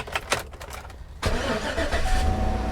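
A salvage-yard truck cranks over and catches at about the one-second mark, then settles into a steady, fairly close idle with a faint high whine.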